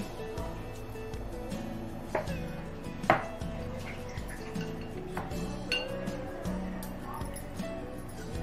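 Spoon scooping chocolate mixture into a tray, soft scrapes and a few sharp metallic clinks at irregular intervals, fairly quiet, with someone talking throughout.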